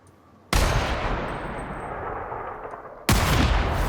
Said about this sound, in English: try out my sniper rifle